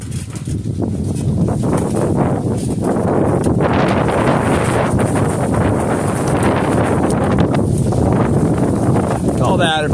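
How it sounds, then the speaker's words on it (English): Strong wind buffets outdoors on a farm, a loud continuous rushing roar with microphone rumble throughout ten seconds. "Man, the wind just picked up."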